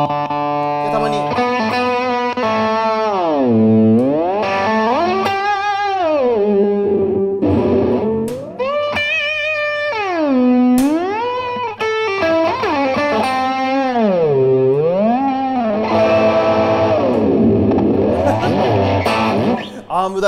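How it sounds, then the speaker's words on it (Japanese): Electric guitar run through a 1995 multi-effects unit, heavily processed and sustained, with repeated whammy-bar dives swooping the pitch down and back up, loud and continuous. "アームダイブもするみたいな感じのこんな音色が出来上がりましたです"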